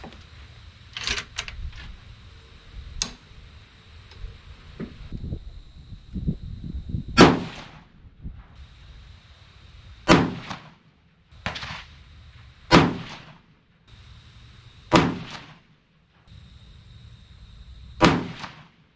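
Five sharp 6.5 Creedmoor rifle shots firing a group with 147-grain ELD Match bullets over 53.0 grains of StaBall 6.5 powder, spaced a few seconds apart, each a loud crack with a short decay over faint background noise.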